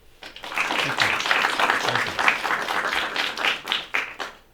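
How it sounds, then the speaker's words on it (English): Audience applause welcomes a former congressman to an interview stage, a swelling burst of many hands clapping that rises quickly, holds, then tapers toward the end. "Please welcome, with a round of applause, former Representative Goodnicht."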